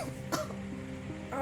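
A short, harsh cough, then a second rougher burst a moment later, close and fairly loud.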